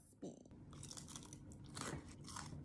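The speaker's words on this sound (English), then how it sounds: "You hear that crunch?" Someone bites into crispy fried food, giving a sharp close crunch followed by a run of crackly chewing and crunching, faint and intimate, with no voice over it.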